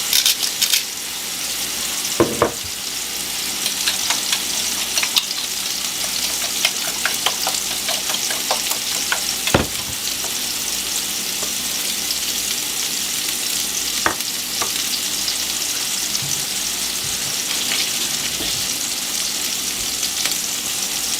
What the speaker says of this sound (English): Hamburger is almost done.